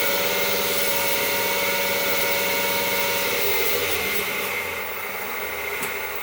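A wood lathe spins a wood and Alumilite pepper mill at about 2,000 RPM, giving a loud steady motor hum with a constant tonal whine that eases slightly toward the end.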